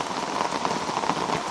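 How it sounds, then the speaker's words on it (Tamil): Steady rain patters densely on outdoor surfaces near a broken bridge, a continuous hissing wash of drops with no voices. "இங்கே மழை பெய்து ஒன்று இருக்குது"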